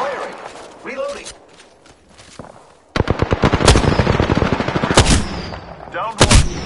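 Rapid automatic weapon fire in Apex Legends, a dense run of loud close bursts starting partway through, following a quieter stretch with game voice lines and talk.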